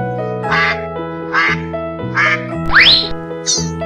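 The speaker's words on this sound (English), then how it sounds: "Duck." A duck quacks four times in a steady rhythm, close and clear, over a sustained musical background, followed by a brief higher bird-like chirp at the end.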